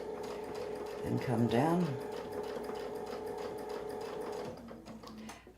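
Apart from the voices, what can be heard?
sewing machine stitching a quilt block along a zigzag template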